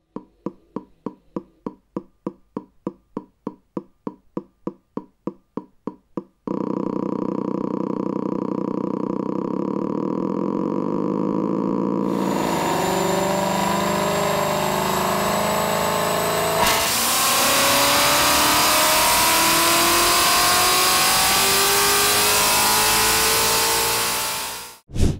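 A simulated crossplane V8 firing order starts as evenly spaced, sharp engine pulses, then turns into a continuous synthetic buzzing drone that steps up through several rising stages before cutting off abruptly.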